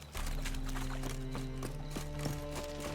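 Horse hooves trot steadily in the Witcher 3 video game, a continuous rhythmic clip-clop over a constant ambient game bed, fairly loud and with no talk.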